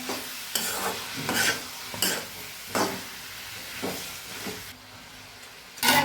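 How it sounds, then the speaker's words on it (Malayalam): Peeled, finely chopped tomatoes being sautéed in a pan, with a steady sizzle and several rhythmic bursts of scraping and stirring from a spoon, close and fairly quiet, no voices. "തൊലി കളഞ്ഞിട്ടാണ് ഞാൻ തക്കാളിയൊക്കെ എടുക്കുന്നത് നന്നായിട്ട് വഴറ്റി കൊടുക്കാം"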